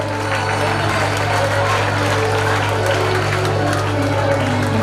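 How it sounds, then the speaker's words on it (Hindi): Audience at a school annual function applauds in a continuous, moderately loud wash of clapping from a crowd, with a voice speaking over it. "ताली बजती रहनी चाहिए।"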